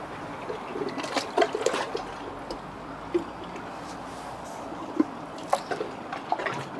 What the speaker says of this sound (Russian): откуда вода шлюпает?